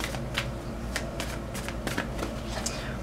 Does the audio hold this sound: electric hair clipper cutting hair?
no